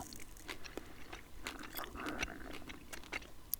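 Close, quiet chewing of gum: soft wet clicks and smacks in an irregular rhythm, with no talking.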